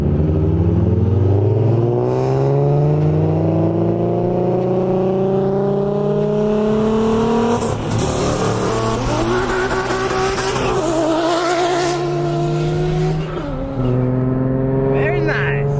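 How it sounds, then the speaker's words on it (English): A car with a custom rear mount single turbo on a roughly 500-horsepower stock motor revs hard and loud, its engine pitch climbing and falling through repeated pulls, with voices faintly underneath. "He's running a custom rear mount single turbo."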